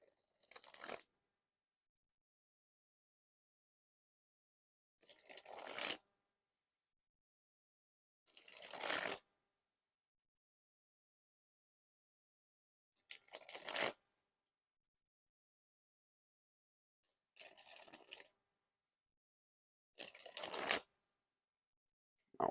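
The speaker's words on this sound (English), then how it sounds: "Now the dribble of cards." A deck of Art of Play Red MessyMod playing cards is dribbled from hand to hand in six or seven short, papery riffling bursts, each about a second long and separated by silence, close and fairly soft.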